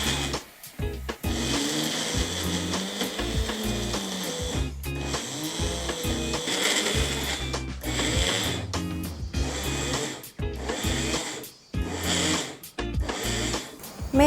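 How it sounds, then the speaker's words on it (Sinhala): A kitchen blender grinds peanuts into a peanut butter paste, a loud, labored churning whir that stalls and restarts in repeated bursts with short gaps. "මේක අපි හොඳට පේස්ට් එකක් වෙනකම් බ්ලෙන්ඩ් කරගන්න ඕනේ"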